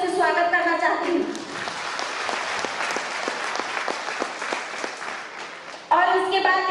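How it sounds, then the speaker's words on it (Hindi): An audience at a business leaders' celebration welcomes a guest with a burst of hearty clapping lasting about five seconds, framed by someone speaking into a microphone before and after. "एक बार जोरदार तालियों से स्वागत करना चाहती हूँ"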